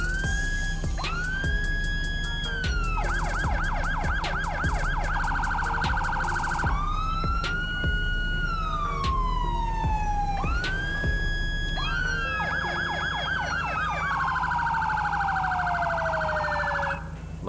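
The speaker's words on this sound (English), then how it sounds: "So now we are using the Whelen Epsilon alternative siren, I believe it's called." A Whelen Epsilon police siren in a GTA V mod runs loud and continuous, cycling through wail, fast yelp and piercing high-low patterns, with two sirens overlapping at times and no talking.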